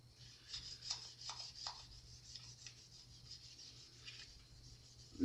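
Polish being rubbed by hand into the tarnished metal hardware of a Les Paul Custom guitar, a soft, steady close-up scrubbing with a few brief sharper strokes, quiet and alone.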